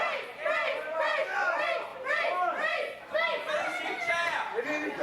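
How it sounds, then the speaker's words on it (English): Wrestling video game arena crowd cheering for their champion, a dense, steady roar of many excited voices with rising and falling swells throughout, close and loud. "Crowd very much behind their champion"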